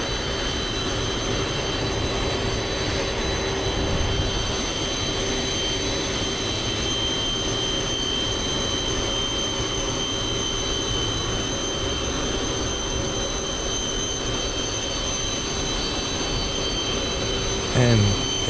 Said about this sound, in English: with the 747 it's definitely the air conditioning packs that you hear screaming above everything